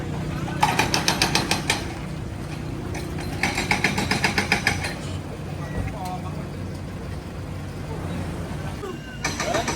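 A backhoe excavator drones nearby on a beach at Koh Kradan, Trang, Thailand, with bursts of rapid, rattling pounding, and a steady engine rumble continues between them.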